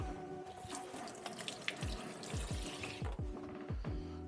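Water runs from a kitchen tap while salad ingredients for a smoked grilled chicken salad are rinsed under it, a steady splashing stream with a series of gurgling, sloshing bursts toward the end, close and with no talking.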